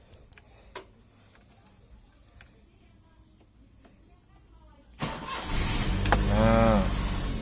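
A manual car's ignition key is turned and the engine cranks and starts, following a few faint clicks and ticks from the dashboard, with the engine noise loud and close for the last couple of seconds.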